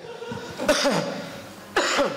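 Two sharp coughs, close and distinct, separated by about a second of quiet.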